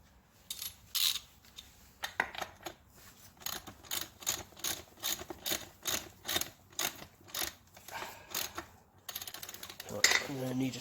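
Bolts are tightened with a wrench on a Kubota B series tractor rear axle with HST drive: a steady, close run of repeated ratcheting bursts, each a short rhythmic clatter, ending in a denser rattle.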